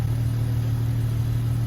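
A BMW 435i convertible engine running after an ECU swap gives a steady, close, low idle rumble with no change in pitch. No one speaks.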